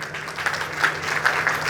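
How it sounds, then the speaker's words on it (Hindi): Brief applause from an audience at a bhajan singing evening, a soft, diffuse wash of clapping heard from a distance, with no voices. "कृपया इस भजन के लिए जोरदार तालियां।"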